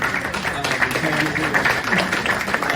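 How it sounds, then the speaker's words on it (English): An audience at an entrepreneur panel gives a round of applause: continuous clapping from a moderate crowd in a room, with some voices mixed in underneath. "let's give another round of applause"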